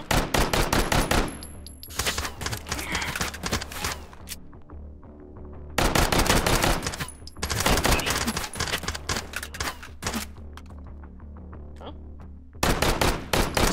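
Gunfight between enemies in the virtual-reality shooter Hot Dogs, Horseshoes & Hand Grenades, with rapid bursts of automatic gunfire and scattered single shots coming in loud volleys separated by quieter lulls.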